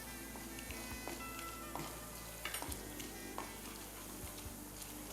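Chicken fries in hot oil, a faint, steady sizzle with scattered crackles and stirring clinks throughout, no voices.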